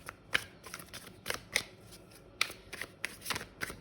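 A deck of tarot cards is shuffled with soft, papery flicks and riffles in irregular bursts, close and quiet, with no one speaking.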